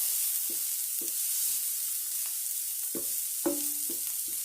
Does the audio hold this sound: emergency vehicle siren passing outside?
no